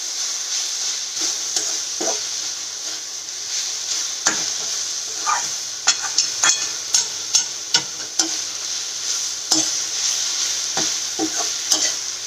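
Radish greens stir-frying in a pan: a constant sizzle with a long series of spatula taps and scrapes against the metal, close up.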